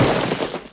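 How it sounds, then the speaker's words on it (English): A gunshot from a scene in the Western film Unforgiven, set among ranchers: a single loud, booming blast that fills the moment and fades away within a second. "And there's a gunshot."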